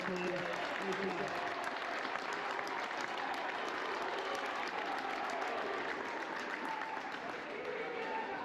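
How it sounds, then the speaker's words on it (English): Steady, dense applause from a large crowd for both teams at a sports match before a trophy ceremony, continuous and loud throughout with a few voices mixed in. "Let's have a large round of applause for both teams."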